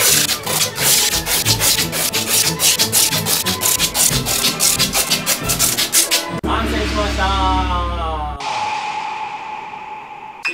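Packing tape is pulled and cut for a kimono costume, giving a fast rhythmic ripping and rasping that runs for about six seconds, then a smoother swishing pull and a final steady hiss, close and loud.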